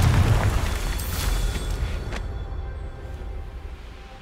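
A Confringo blasting spell explodes in Hogwarts Legacy, a loud booming burst at the start that rumbles and slowly fades over several seconds.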